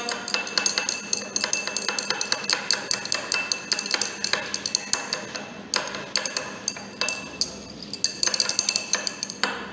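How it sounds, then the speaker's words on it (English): Glass rod stirring chalk powder in water inside a glass beaker, producing rapid repeated clinking taps against the glass in an irregular rhythm, close and crisp with no talk. "mix with the help of this glass rod."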